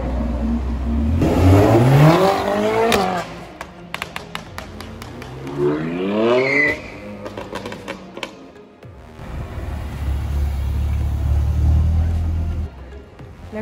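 A red Ferrari 812 with an 800 hp V12 passes in a street, its engine rising in pitch in rapid revving sweeps, then fading as another rumble builds. A voice is heard faintly.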